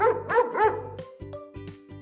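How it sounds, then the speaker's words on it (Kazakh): A dog barks in a quick run of sharp, yappy barks followed by several shorter yips, close and fairly loud with nothing else around. "Ит."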